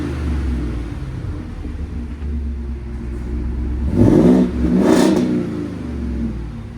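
A 7.3L gas V8 with its resonator deleted, heard from inside the cabin, idles with a steady low rumble, then revs hard twice in quick succession near the end, each rise swelling loud and falling back.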